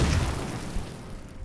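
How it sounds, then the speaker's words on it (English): A grenade going off in Assassin's Creed Shadows, a brief low boom at the start that quickly fades into a rumbling tail, moderately loud, no talk. "Thank goodness we brought these Chinese grenades."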